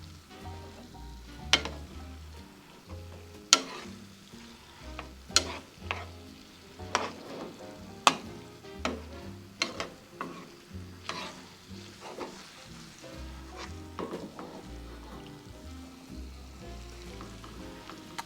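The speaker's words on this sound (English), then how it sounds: "And you just slide a spoon and you mix it. Mix it on a low, medium heat." A spoon slides and scrapes through a pot of cowboy beans (frijoles charros) cooking over low-medium heat, with repeated sharp clinks and scrapes in an uneven rhythm over a soft, steady simmer and sizzle.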